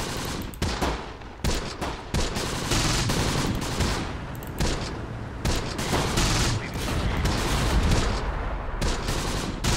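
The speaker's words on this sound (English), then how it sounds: "with those machine guns firing at us" Loud, dense bursts of machine gun fire in the WWII tactics game Close Combat: The Bloody First, with overlapping rapid rattling volleys and shots in continuous fusillade, nearby and relentless throughout with no talk.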